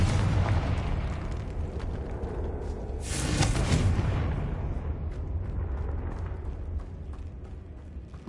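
A Confringo blasting spell goes off in a video game: a loud, broad explosive burst near the middle, with a rumbling low-end tail lingering under steady background noise.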